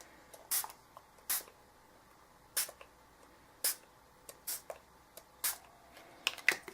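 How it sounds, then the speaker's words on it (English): A spray bottle sprays paint in short sharp hisses, one at a time, spaced irregularly, close and fairly loud against a quiet background. "So I think these need a little extra spray."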